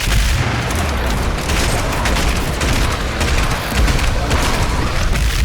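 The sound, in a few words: Doom Eternal combat shotgun blasting enemies, from video game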